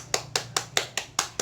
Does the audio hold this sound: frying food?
no